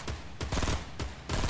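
Rapid automatic gunfire from a first-person shooter video game, three loud bursts in quick succession with brief gaps between them, close and dense.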